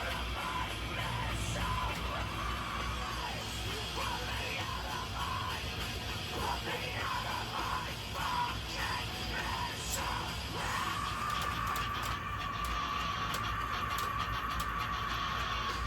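A long, sustained scream from a song, held continuously at full strength as a single unbroken yell over a dense, steady music bed.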